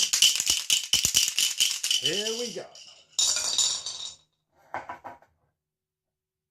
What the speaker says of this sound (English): Throw them into my SFI cup, give it a good old shake and tip the dice into that bowl